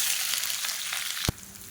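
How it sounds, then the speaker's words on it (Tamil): Roughly a quarter kilo of large onions, sliced lengthwise, sizzle loudly in about three spoons of hot oil in a pan, a steady close frying hiss with a brief clatter near the end. "இதில் வந்து 1/4 கிலோ அளவு பெரிய வெங்காயம் நீளமாக நறுக்கினதை சேர்த்துக்கலாம்."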